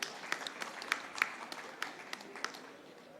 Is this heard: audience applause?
yes